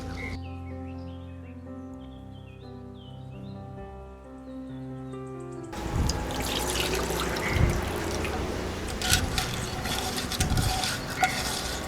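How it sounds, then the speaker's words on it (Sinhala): Dried sprats being washed in a bowl of water, soft sloshing and trickling that starts after a few quiet seconds of background music, with occasional rubbing splashes close by. "හාල් මැස්සෝ කරවල හොදනකොට 7-8 පාරක් හොදන්න ඕනේ"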